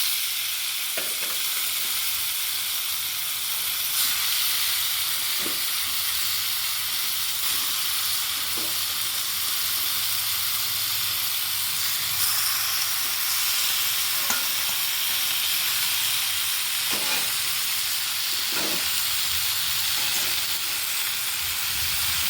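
Boiled taro greens fry in a little oil in a wok, a continuous close sizzle and hiss with periodic scraping taps of a spatula as they are stirred, no talking.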